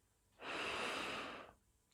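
A single deep inhalation through the nose during a sophrology relaxation exercise, a close, airy breath lasting about a second with quiet before and after.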